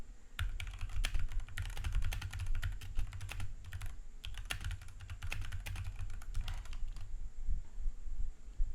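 Typing on a computer keyboard in Google Docs, quick bursts of close clicking keystrokes separated by short pauses, faint and alone.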